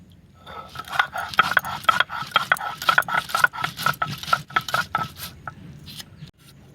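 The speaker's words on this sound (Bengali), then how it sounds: "শুকনো লঙ্কা, তেজপাতা, গোলমরিচ, ধনে, জিরে সব একসঙ্গে বেটে নেব।" Dried chilli, bay leaf, black pepper, coriander and cumin are ground together for an egg and potato curry, a steady rhythm of rough scraping strokes that repeat quickly and fade near the end.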